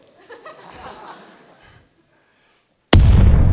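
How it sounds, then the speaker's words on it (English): Simulated cannon blast for a youth orchestra and alumni performance of the 1812 Overture: after murmuring voices and a brief hush, one sudden, very loud booming burst hits and rings on. "We're about to fire a cannon."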